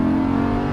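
A Lamborghini Huracan LP610-4 accelerates on a race track, its engine giving a loud, steady, close-up droning roar with a strong sustained tone and no break.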